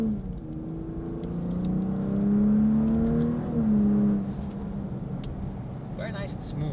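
A BMW X7 40i engine with its Valvetronic exhaust valves open, heard from inside the cabin as a smooth, steady rising drone that swells in the middle and settles, with faint background sound.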